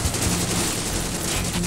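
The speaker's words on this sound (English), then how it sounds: "Laser squad, weapons charging." Weapons fire from a laser squad in the video game C&C Rivals, a dense, continuous burst of rapid crackling shots that fills the whole short stretch at high volume.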